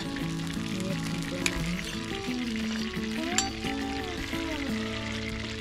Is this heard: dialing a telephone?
no